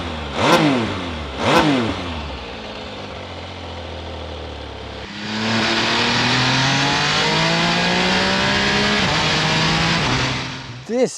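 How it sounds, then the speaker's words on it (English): A 2024 MV Agusta Enduro Veloce triple-cylinder adventure motorcycle gives two sharp exhaust blips up close, then settles into a long, loud acceleration through the gears before cutting off. "Also a superb note from the exhaust."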